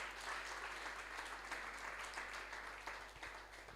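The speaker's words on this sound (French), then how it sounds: "Pouvons-nous acclamer très fort?" A church congregation applauding together in a steady, dense wash of clapping that holds evenly throughout, fairly distant and low in level.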